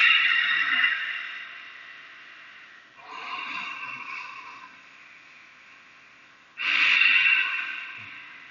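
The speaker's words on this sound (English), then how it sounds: "Two more breaths." Deep yoga breathing during a Hatha session: three long, slow breaths, each starting with a strong airy rush that tapers off, heard close and alone with no talking.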